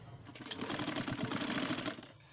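A sewing machine stitches a seam on a blouse sleeve, a quiet rapid mechanical whirr of needle strokes running for about a second and a half before stopping.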